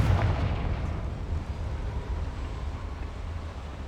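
A Confringo fire spell exploding in the video game Hogwarts Legacy, a heavy booming blast with a dense low rumble that slowly decays, loud and close, with no talking.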